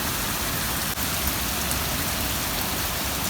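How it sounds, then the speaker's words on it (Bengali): Heavy rain pours onto grass in a dense, constant hiss of countless drops, loud and close, with no voices over it. "আমাদের এখানে আজকে এত বৃষ্টি হচ্ছে"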